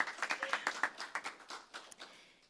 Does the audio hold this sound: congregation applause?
yes